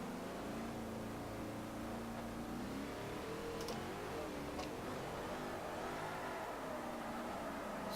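Car engine in Forza Motorsport 4 during a rear-wheel-drive drift run, a continuous loud droning rev that holds steady with slight pitch wobble throughout, without talk.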